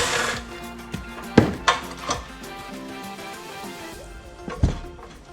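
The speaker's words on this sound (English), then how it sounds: "This is a 8mm socket for these 3 bolts." Metallic clanks and ratchety knocks from an 8mm socket loosening bolts on a Predator 212 small engine, several sharp irregular taps and clunks close by over a quiet background.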